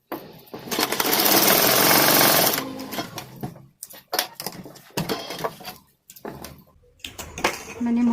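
An electric sewing machine stitches a boat neck kurti, its loud, rapid whirring running in bursts of varying length, with pauses, fabric handling and someone speaking between runs.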